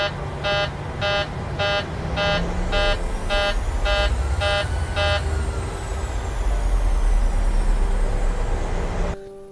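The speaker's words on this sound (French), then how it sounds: "avertissant les pilotes que la cabine n'est pas correctement pressurisée." An airliner's cabin pressurization warning horn sounds nine evenly spaced, harsh beeps over a constant engine-like drone and rumble, then stops while the roar continues.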